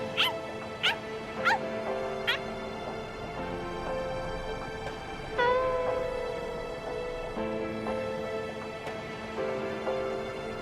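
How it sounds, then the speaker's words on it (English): Dog in the video game Bleach Rebirth of Souls yipping and barking in several short, sharp bursts near the start, then whimpering faintly over a steady musical game backdrop. "Stupid, annoying dog."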